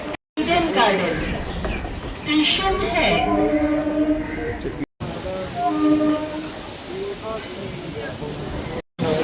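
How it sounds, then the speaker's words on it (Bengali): A train pulls into the Princep Ghat platform in Kolkata, with rumbling carriages and horn-like tonal blasts as people talk nearby. Brief dropouts break the sound twice. "প্রিন্সেপ ঘাট প্ল্যাটফর্মে ট্রেন ঢুকছে আমাদের"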